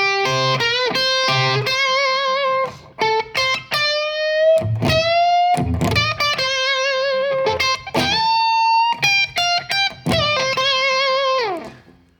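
An overdriven electric guitar plays a slow-blues lick with quick picked phrases, string bends and sustained notes, ending on a ringing held tone.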